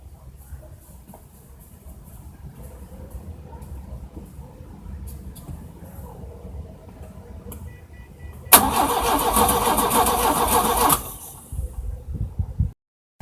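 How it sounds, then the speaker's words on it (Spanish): A 1993 Ford Escort engine cranks for a couple of seconds, then catches and runs loudly, idling briefly before shutting off, after a quiet stretch of faint background noise. "Ahora le voy a dar arranque al auto y quiero que vean."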